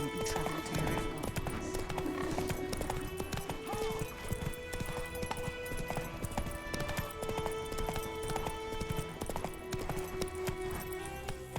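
Roach, a horse in The Witcher 3, gallops with steady hoof clip-clops over dense game music and ambience, with an occasional whinny, continuous and moderately loud throughout.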